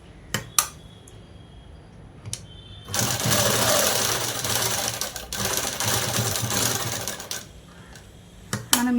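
Sewing machine stitching cut work pants: a few isolated needle taps, then a steady fast whirring run of stitching for several seconds, stopping into brief clicks and handling noises near the end.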